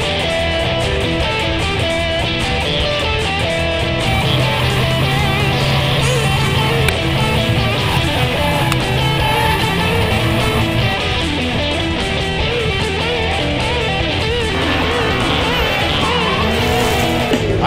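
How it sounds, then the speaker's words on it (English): Cars drifting at Las Vegas Speedway during a tire event, loud continuous tire squeal and skidding layered over revving engines, sustained and close with shifting pitch. "Usually their favorite thing to do out here is the drift stuff"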